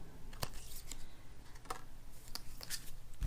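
Tarot cards are shuffled by hand, with quick crisp riffles and soft slides, close and fairly quiet, with no voices.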